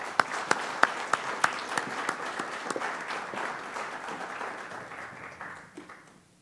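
An audience at a Nelson-Atkins Print Society lecture bursts into applause to welcome the speaker, with a few sharp early claps that swell into steady, dense clapping and then fade out over several seconds.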